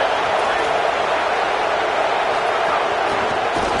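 A stadium crowd in an NCAA football video game roars in a steady, loud, unbroken wash of cheering noise during a goal-line stand.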